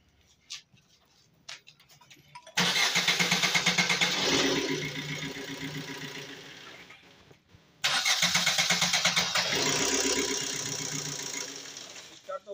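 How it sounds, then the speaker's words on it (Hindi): A Maruti Swift diesel car with a starting problem cranks its engine in two long, steady chugging bursts, each several seconds long with a rapid rhythmic pulse, close and loud, separated by a brief pause. "स्टार्ट तो हो रही है लेकिन राउंड है ना लंबा लेके स्टार्ट हो रही है"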